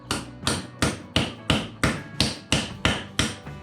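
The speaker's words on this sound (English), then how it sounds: "give it a few taps to get the little teeth engaged" A hammer taps a bolt extractor onto a broken-off bolt: ten evenly spaced, sharp metallic strikes at a steady rhythm, close and loud, with no talking.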